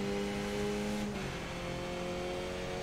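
A race car engine drones steadily in the video game iRacing, a close, continuous hum whose pitch shifts partway through as the car changes speed, with no voices.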